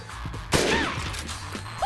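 A single loud sniper rifle shot in the Dead Rising Remaster video game cracks sharply and close, then fades into a long ringing tail over quiet background game ambience.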